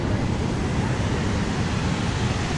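A waterfall at Box Canyon Springs pours in a steady, loud broadband rush that fills the whole stretch evenly, close by with no breaks and no voices.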